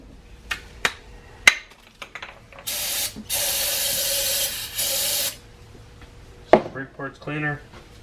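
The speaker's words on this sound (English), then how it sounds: "Brake parts cleaner, or carb cleaner rather." Aerosol carb cleaner hisses from a can in a single steady burst of about two and a half seconds, with clicks and knocks from work on LSX fuel injectors before and after.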